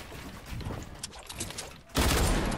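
Video game gunfire from a hunting rifle loadout erupts in a loud, dense burst near the end after a stretch of muffled shots and noisy background, close and harsh.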